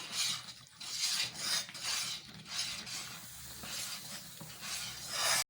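Thick Mysore pak mixture being stirred continuously in a pan, a close, rhythmic scraping and rasping of the spoon against the pan bottom with a faint sizzle, repeated strokes with no talking.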